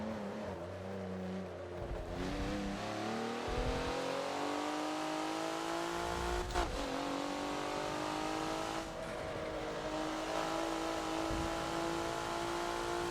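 Race car in the Forza video game lapping Lime Rock, a steady engine drone climbing in pitch through gear changes, with a brief lift off the throttle and tire noise, no talking over it.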